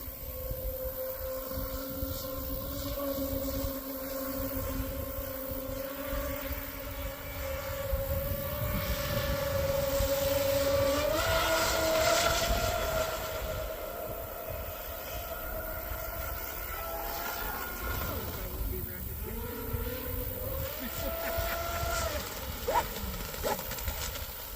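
A TFL twin-motor carbon fiber Cheetah catamaran RC boat on twin 6S lipos runs with a high, steady electric whine that swells, dips and pitches up and down as it passes, heard from the shore with no talk.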